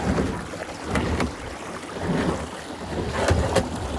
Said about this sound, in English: That's some wild white water there, boys.